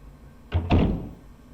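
A locked door being tried in the Resident Evil video game: two quick heavy thunks close together, a dull wooden rattle with a short low tail, alone in an otherwise quiet room.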